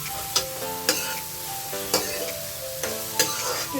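Onions and green chili sizzle in a hot karai as they are stirred, with steady frying crackle and several sharp scrapes of the spoon against the pan at irregular intervals.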